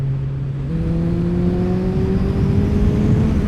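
A powerful motorcycle engine with a quick-action throttle revs hard and close, its pitch stepping up once and then climbing steadily in a loud continuous roar with no talking.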